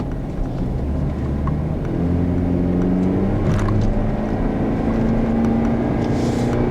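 A 2015 GMC Canyon pickup's four-cylinder engine labors steadily as the truck climbs a hill, a continuous low droning hum with rising harmonic tones, heard from inside the cab without talk.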